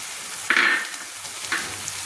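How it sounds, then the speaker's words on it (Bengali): Ginger-garlic paste fries in oil in a pan with a steady sizzle, brightening in two stirred bursts partway through, close and alone with no talking. "ভালো করে আমি আদা রসুনটাকে তেলের সঙ্গে কষিয়ে নিচ্ছি"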